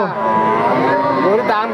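A dairy cow with a calf at a cattle market moos in a drawn-out, wavering call lasting the whole stretch, loud and close, with market noise underneath.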